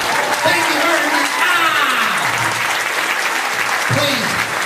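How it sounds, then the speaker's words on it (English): An audience in an old building claps steadily throughout, dense and loud, while a voice talks over the applause. "Don't clap too loudly."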